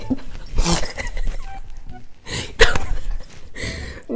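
A dog whimpers and gives short barks close by, in a few brief bursts with pauses between them.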